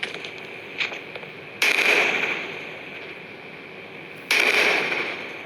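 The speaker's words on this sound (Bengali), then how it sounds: "এই মেশিন গান দিয়ে কাজ হচ্ছে না এটা দিয়ে ব্লাস্ট করিয়ে দিই" Two sharp blasts in the Indian Bikes Driving 3D video game as a UFO is bombed, each a sudden loud burst with a hissing decay, the second about three seconds after the first, over steady game background noise.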